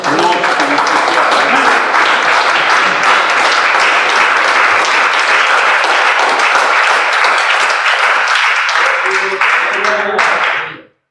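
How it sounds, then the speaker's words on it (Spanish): A church congregation claps loudly and continuously as an offering to God, dense sustained applause with some voices mixed in, then cutting off abruptly at the end. "Ya les ofrenda de palmas a Dios en esta noche"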